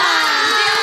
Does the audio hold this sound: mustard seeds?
no